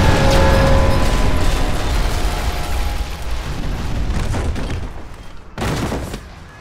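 A bomb blast in an elevator in a Call of Duty campaign: a dense, roaring explosion rumbling loudly and fading gradually, with a second burst of debris near the end.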